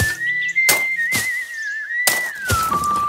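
A man whistling a simple sustained tune while working on a moor, a clear close melody broken by several sharp thuds of digging.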